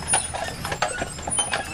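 Hooves of a three-horse team clip-clop steadily as they pull a large horse-drawn carriage on Mackinac Island, the rhythmic clopping continuing throughout amid light background noise.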